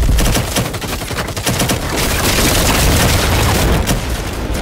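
Grenade blasts and heavy gunfire in a video game, dense rapid bursts of shots and booms layered loudly and continuously, with no clear talking.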